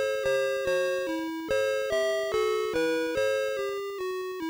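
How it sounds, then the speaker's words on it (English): Jingle Bells plays as a chiptune melody from an Atari 2600 fitted with the CompuMate keyboard add-on, with bright square-wave notes in a steady rhythmic sequence, each one sounding alone and decaying quickly. "And what if it had jingle bells?"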